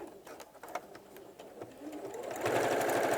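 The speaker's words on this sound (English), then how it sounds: "I'm going to stitch all the way around the folds." A domestic sewing machine stitches around the folds of a fabric handle for a kneeling cushion, starting with a few rapid pulses and then running faster and louder in a continuous close whir.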